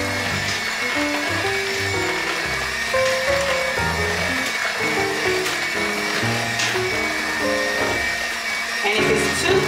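An electric mixer whirs steadily while blending sweet potato pie filling, a continuous motor drone with shifting pitch, close and loud, with a person talking over it.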